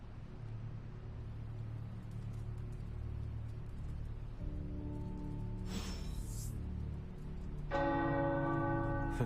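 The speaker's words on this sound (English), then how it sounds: "The tower bells are ringing." Tower bells ring out in the video game Marvel's Midnight Suns, starting with a low rumble, then tolling bells entering and a brighter peal swelling louder near the end, with no one talking.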